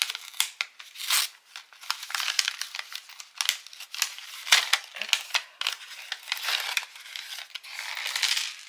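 Paper and plastic packaging of a craft swap kit being opened, with close crinkling, crumpling and tearing in quick irregular bursts and rustles, and no talking.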